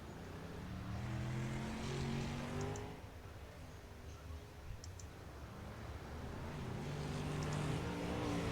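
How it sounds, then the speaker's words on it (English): Outlaw 305 race cars rolling off the line for warm-up laps on a freshly reset dirt track, a steady broad engine roar with several cars droning and rising together at a moderate distance, sustained throughout. "As cars start to roll off."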